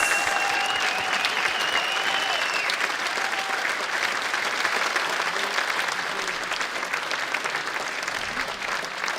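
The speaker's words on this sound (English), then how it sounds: "Ladies and gentlemen, one more applause for all our pilots." Sustained crowd applause for gas balloon pilots at the opening ceremony of the 67th Gordon Bennett Cup: dense, even clapping from a large audience lasting the whole stretch, with a faint tonal hum in the background early on.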